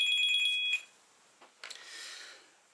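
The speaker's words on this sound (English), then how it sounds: "Hang on, my phone's ringing." A mobile phone ringtone plays a steady electronic tone for under a second, then cuts off, leaving faint rustling and handling noise close by.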